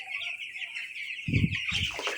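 Young chickens on a poultry farm give two short, close clucks late in the clip, set against a constant high-pitched cheeping from the flock behind them.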